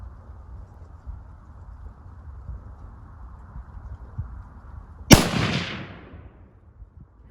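A single loud rifle shot from a 25 GPC firing a Sierra 90 HPBT varmint load with BLC-2 powder cracks outdoors after several seconds of quiet, then rings out in a decaying echo.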